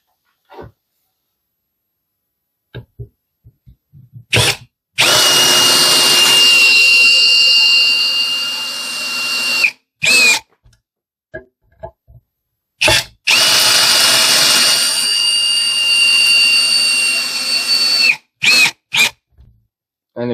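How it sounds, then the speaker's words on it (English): A Parkside Performance 20-LI B2 cordless hammer drill whirs while driving screws in two sustained bursts of several seconds each, on drill mode at speed setting 1, with short clicks and brief trigger taps between runs. "So we're going to do some screw testing now."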